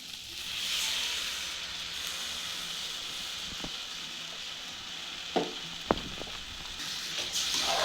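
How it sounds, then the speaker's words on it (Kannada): Beaten eggs fry with onions and green chillies in a pan for motte palya, giving a continuous hissing sizzle with a few sharp utensil clinks against the pan. "ಇದನ್ನು ಚೆನ್ನಾಗಿ ಒಂದು ಐದು ನಿಮಿಷ ಎಲ್ಲ ಫ್ರೈ ಮಾಡಬೇಕು"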